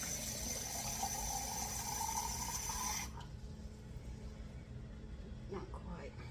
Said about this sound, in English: fill this up with cold water with the vegetable water that I have